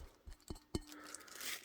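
A frosted glass ceiling fan globe with a brass ring, from an Atlantic Air UB42 42-inch fan, is handled, giving a few brief, quiet glassy clinks, one with a short ringing tone.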